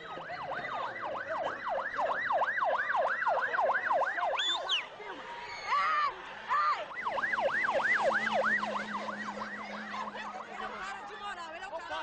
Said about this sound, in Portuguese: volta e meia a gente escuta essa sirene